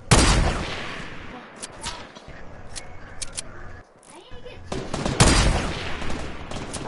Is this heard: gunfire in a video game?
yes